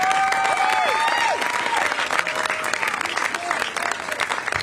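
A rally crowd in San Francisco applauds in a steady dense burst of clapping, with a few whistles cutting through the noise.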